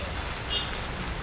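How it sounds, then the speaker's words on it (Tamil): Steady, loud rain drums on a tent at a Goa street food spot, a dense continuous patter close by with no break. "சரியாக மழை பெய்யுதுங்க. நான் இந்த கூடாரத்தில் தான் நிற்கிறேன்."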